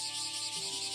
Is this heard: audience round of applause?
no